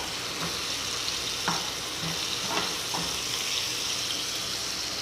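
Dried fish (tuyo) sautés in a hot pan, a loud continuous sizzle up close with a few light scraping stirs at intervals, no voices over it.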